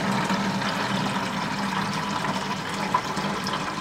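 Water drains out of a 30 to 40 litre shrimp aquarium during a partial water change, a steady loud gurgling rush of flowing liquid, close and continuous with no pauses and no talk.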